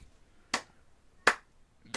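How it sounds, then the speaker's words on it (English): Three slow, spaced hand claps, crisp and close, each one ringing out alone against near silence. "It was a slow clap?"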